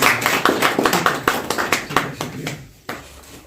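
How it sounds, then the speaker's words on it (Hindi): Hand clapping from a small group welcoming farmers at an agriculture department public gathering in Jammu and Kashmir, uneven claps close by that thin out and fade toward the end. "अच्छा हम तो ताली के लिए स्वागत करो ना अपने किसान।"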